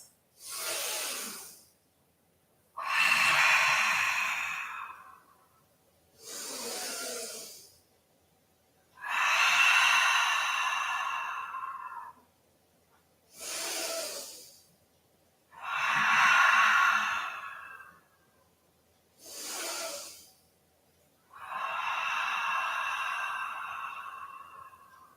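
Slow, deep yoga breaths sound close to the microphone: eight long airy inhales and exhales in a steady, unhurried rhythm, each separated by a brief quiet pause, with no talking.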